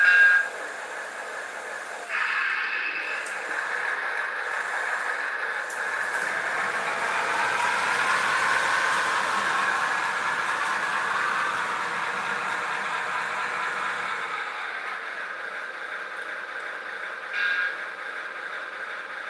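Centipede model train locomotives back up on a layout, producing a steady hissing, rumbling rail noise with a brief tonal squeal at the start and another near the end, close and continuous.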